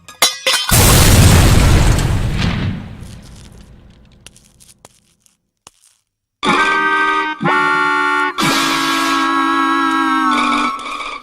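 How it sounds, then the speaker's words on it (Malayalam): A loud, close bomb blast in a Malayalam movie scene: a sudden booming explosion that rumbles and decays over a few seconds, later followed by shrill whistling tones. "അയ്യോ ബോംബ്."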